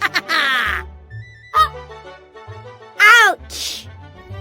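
A cartoon-style male mallard duck quacks in a string of short, loud, nasal bursts separated by gaps, with a low steady hum beneath.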